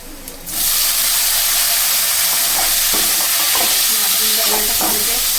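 Tomatoes go into beans sabzi frying in a pan, setting off a sudden loud burst of sizzling that continues as a steady hiss while the mix is stirred with light scraping sounds.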